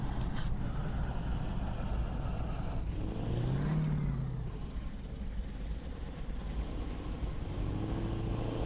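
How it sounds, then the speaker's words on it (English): A simulated 500-horsepower truck with a heavy-haul frame pulls a heavy load on Irish roads, its engine a low, steady, fairly quiet drone that swells briefly in the middle. "This is a 500 horse engine, so we've got plenty of get up and go."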